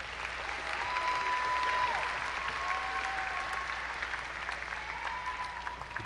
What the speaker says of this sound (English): Please honor these graduates with a round of applause.